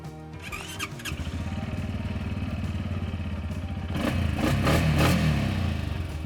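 A Loncin 300cc compact ATV engine cranking with a brief starter whir, catching and settling into a steady idle, then rising in a few quick revs with clattering mechanical noise, close and loud.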